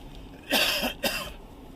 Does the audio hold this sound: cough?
yes